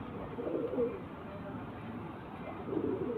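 Male pigeons of a high-blood Kutu line coo in soft, low repeated phrases, with a louder burst near the start and another near the end over faint background noise.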